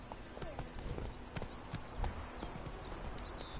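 A horse gallops in the video game The Witcher 3, its quick, rhythmic hoofbeats pounding close and steady over game ambience, with a voice briefly heard.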